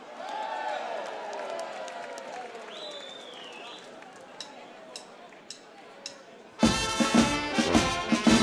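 An audience bursts into loud, dense applause for the choir De Buntstekers at a contest in a bawling-style singing category. The clapping arrives abruptly near the end, after a quieter stretch of softer sound.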